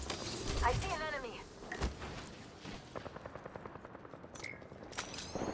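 Gunfire in the video game Apex Legends: a rapid, regular string of automatic shots rattles through the middle and end of the clip, mixed with clanking game effects and brief voice lines.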